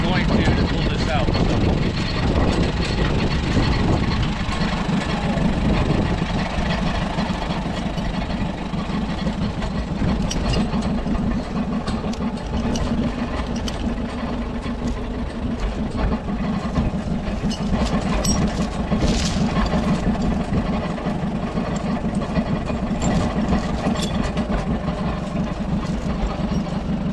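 A 1951 Allis Chalmers tractor engine running steadily in a field, a loud low rumbling drone throughout, with a person talking over it.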